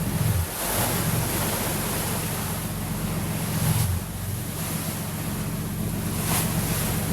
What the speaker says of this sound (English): Now we have another chance to enjoy the peaceful waves of the Aegean Sea.